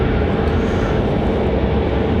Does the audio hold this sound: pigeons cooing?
no